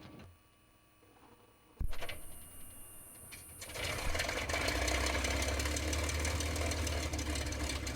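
A P-51 Mustang engine making a cold start on a summer morning: quiet clicks, then a sharp starter engagement, whining cranking, and the big piston engine catching into a loud, rough, throbbing run.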